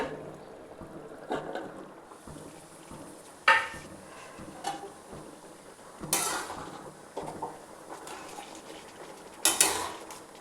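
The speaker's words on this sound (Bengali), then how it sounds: "দেখুন, ঢাকাটা খুলছি এবারে।" A lid is lifted off a pot of potato curry, with clattering metal knocks and scrapes of cookware plus faint stirring and light sizzling in between, close and quiet with no speech.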